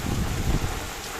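Steady rain pours down outdoors at a train station, a dense, even hiss with a low rumbling undertone, close and fairly loud with no voices.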